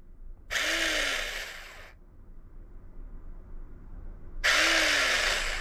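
An electric Miya Epoch AC 5s fishing reel in auto jigging mode whirs in two distinct bursts, each roughly one and a half seconds long and separated by a quiet pause, with a rising pitch at the start of each burst.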